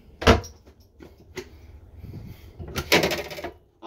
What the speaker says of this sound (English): You got four of these drawers. I'll show you two.